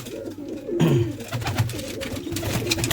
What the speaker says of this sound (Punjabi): ਆਪਾਂ ਘੱਟੋ ਘੱਟ 25 30 ਕਬੂਤਰ ਹੁੰਦੇ ਆਪਣੇ ਕੋਲ